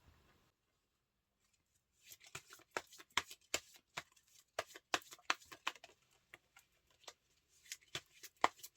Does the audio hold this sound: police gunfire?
no